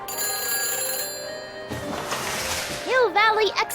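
A telephone bell rings at the phone helmet attraction of the Hill Valley 1931 Expo, a warbling ring near the end that follows a steady hum and a burst of noise.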